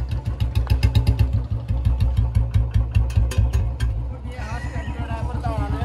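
A Royal Enfield Bullet motorcycle engine runs close by, its steady single-cylinder thump pulsing evenly throughout, with a brief rise in hiss and rattle near the end as people talk.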